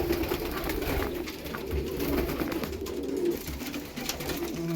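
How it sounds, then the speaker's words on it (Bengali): Pigeons in a loft cooing steadily and close, with a busy layered murmur of many birds and occasional wing flutters as they stir to get out, no voices. "পায়রা বেরোনোর জন্য লাফালাফি করছে"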